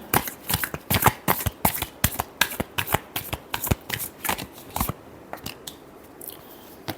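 Tarot cards being shuffled by hand, a close run of about fifteen quick, crisp riffling snaps in a steady rhythm that slows and thins out toward the end.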